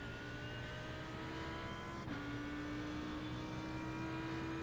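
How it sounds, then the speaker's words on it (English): A race car engine in the iRacing sim at the Nürburgring, droning steadily at high revs with a tonal whine, then shifting pitch abruptly midway as it drops a gear, continuous and close throughout. "Downshift into the Adenauer Forst, which is a very tricky section for braking. Downshift into second."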